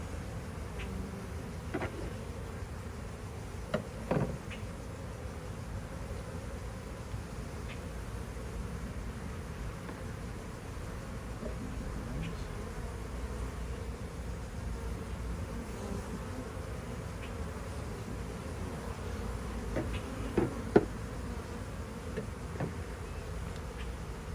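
A honey bee swarm hums continuously in a low, even drone, close by, with occasional louder buzzes as individual bees fly past the microphone; no one speaks.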